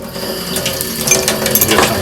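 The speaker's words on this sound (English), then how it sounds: "I've been whisking eggs with a fork for years" Eggs are whisked with a fork in a bowl, making fast, busy clinking and scraping at close range, steady over the whole moment with a slight watery slosh.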